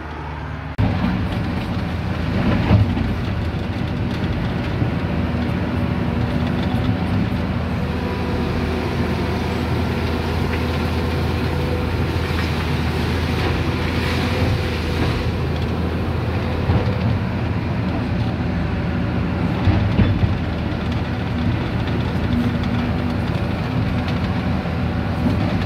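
A machine's engine runs continuously at operating RPM, a loud, steady droning hum with a constant low tone that holds unchanged for about 25 seconds.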